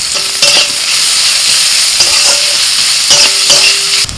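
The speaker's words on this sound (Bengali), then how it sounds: "রসুনটা একটু ভেজে নিয়ে দিচ্ছি পেঁয়াজ কুচি দুটো কাঁচা লঙ্কা" Chopped garlic, onion and two green chillies fry loudly in hot oil in a pan, a steady close sizzle broken by several scraping stir strokes.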